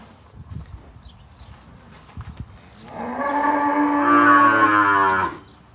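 Cattle on a farm where the animals are kept and tended, with scattered soft knocks and shuffling before one loud, close, drawn-out moo that holds for about two seconds and then stops.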